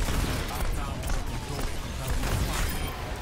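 Gunfire crackles in rapid bursts during Overwatch gameplay in retaliation mode, busy game effects mixed under an excited Portuguese-speaking player.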